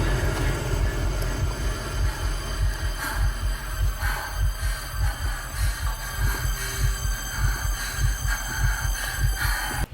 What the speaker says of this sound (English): we got a heartbeat.